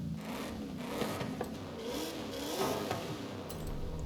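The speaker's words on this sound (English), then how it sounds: "What about engine noise or exhaust noise?" A V8 engine of the new Mustang in Forza Horizon 5 revs and drones steadily for a few seconds, with rising and falling pitch sweeps, fairly close and alone without talk.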